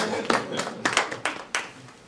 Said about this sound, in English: I shall applaud for myself.